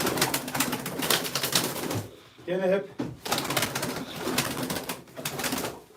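Pigeons coo in repeated soft bursts around a busy spot, mixed with other bird calls, while someone talks loudly and briefly breaks into a drawn-out vocal sound.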